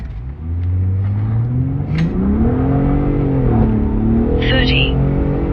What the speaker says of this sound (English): Let's see how this truck accelerates to 60.